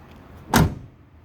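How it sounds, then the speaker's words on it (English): A single solid thump of a 1969 El Camino's door shutting, close and clear, against quiet background. "Door shuts nice."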